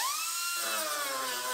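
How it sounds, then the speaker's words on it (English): A power drill whines at high pitch, boring out the spot welds on the back of a Chevrolet Silverado truck cab: one continuous, close, loud run with the pitch sliding slightly as it bites into the metal. "Now we're going to drill the spot welds out of the back of our cab."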